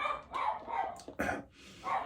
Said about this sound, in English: the dog is barking because there's another dog, of course, going outside the windows